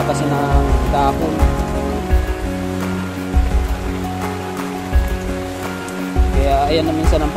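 Heavy rain pouring down on a rooftop, with water spilling over a downspout clogged with leaves; a dense, steady wash of rain and splashing water, loud and close, with no talk.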